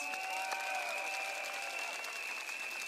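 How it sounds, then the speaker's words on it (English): Crowd applause at a People's Action Party election rally in Punggol GRC, a steady, dense wash of clapping from a large audience, continuous and moderately distant, with no voices standing out. "Let us give them a big round of applause."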